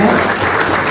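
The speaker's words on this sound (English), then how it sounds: "Claps for Katukiro Owamina." A crowd at a Busoga Kingdom fundraiser in Uganda claps for Katukiro Owamina, in a brief, loud burst of dense applause.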